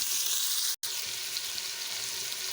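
Chicken fries in garlic and ginger with a loud, close, continuous sizzle, broken by one very brief gap.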